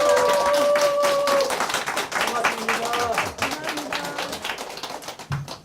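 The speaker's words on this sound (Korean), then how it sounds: "소중한 시간 함께해 주신 우리 신동아 의원님에게 다시 한번 박수 한번 부탁드립니다." Steady applause from a group of people at a Guri city council talk event, dense clapping that gradually thins out and fades.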